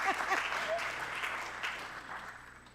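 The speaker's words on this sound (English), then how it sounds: "We clap at that point too" An audience applauding during a Sunday church gathering, a fairly distant wash of clapping that slowly fades over a few seconds, with a few faint voices mixed in.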